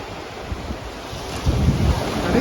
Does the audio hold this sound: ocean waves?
yes